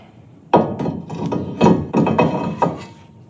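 A new brake rotor slid onto the front hub of a 1998–2002 Toyota Corolla, heard as several close, sharp metallic clunks and knocks in an uneven sequence against a quiet garage.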